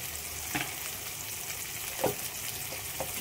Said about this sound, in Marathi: आणि ते वाटण फ्राय करायला ठेवले मी.